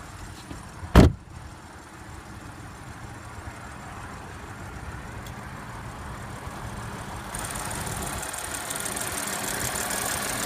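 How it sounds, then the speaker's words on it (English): A 2015 Audi Q7 3.0 with a supercharged V6, eight-speed Tiptronic and quattro all-wheel drive idles under the open hood, a steady close mechanical hum after one sharp thump near the start. "Under the hood is a 3-liter supercharged V6 engine with 8-speed Tiptronic transmission Audi Quattro all-wheel drive"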